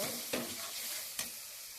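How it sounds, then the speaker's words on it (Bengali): Spice mix being stirred into onions frying in oil in a pan, with two sharp scraping strokes over a steady, close sizzle and no talking. "মশলাটা দিয়ে এবার ভালো করে আমি এটা তেলের সঙ্গে পেঁয়াজ ভাজার সঙ্গে কষিয়ে নেব"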